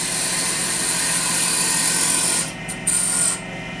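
A parting tool cuts into wood spinning on a woodturning lathe, giving a steady loud scraping rasp that drops away briefly near the end, with no talk.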